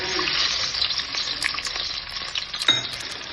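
Garlic cloves frying in hot oil, a loud, dense, close sizzle that runs throughout, with a few light stirring knocks and no speech.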